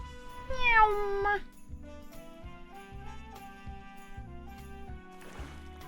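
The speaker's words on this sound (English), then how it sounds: "Oh my gosh, this cat is maximum cute." A cartoon cat meows twice in quick succession in a digital card battle game, rising and falling cries heard over steady game music with a rhythmic beat, followed by a brief chime.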